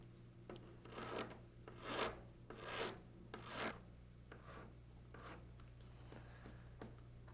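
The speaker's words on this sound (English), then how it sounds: "take a half round file and get into that bridge area and just" A half round file rasps over the plastic bridge of an eyeglass frame in a run of short, close strokes, steady and faint over a low hum.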